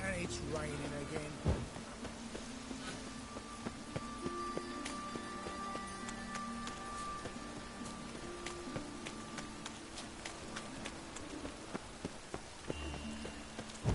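Rain falls in the Witcher 3 video game as a steady patter of drops on surfaces. It comes with scattered sharp taps and a faint background hum, and a voice speaks over it.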